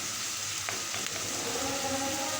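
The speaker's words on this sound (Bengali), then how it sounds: "হালকাভাবে নেড়ে কিছুক্ষণ একটু পেঁয়াজটা ভাজার পরে একটু করে হলুদের গুঁড়া দিয়ে দিব" Onions fry with turmeric powder in hot oil for a bitter gourd fry, giving a soft, steady close sizzle with a few faint stirring taps and no voices.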